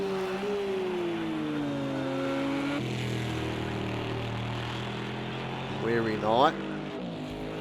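Porsche race cars in a sim racing game, a Catalan endurance race, drone steadily with engine tones rising and falling as cars pass, under continuous commentary.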